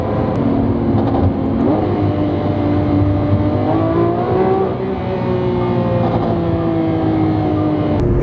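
A Lamborghini Aventador SVJ's V12 engine, loud and close, revving up and down in rising and falling pitch sweeps with a steady throaty drone, and no voices.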